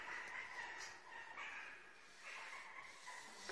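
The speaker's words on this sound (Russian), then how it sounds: "Птички туда поют." Small birds sing and chirp near the entrance of the Ak-Mechet cave, their repeated high calls fairly close over a steady outdoor background, with no talk.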